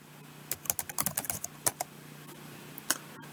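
Keys clatter on a computer keyboard in a short burst of quick, uneven taps, then pause before a couple of isolated keystrokes near the end, close and fairly quiet.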